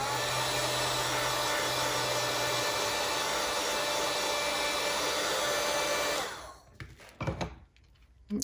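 A hair dryer blows steadily and loudly for about six seconds to dry a book treatment, then switches off, followed by a few handling knocks and rustles.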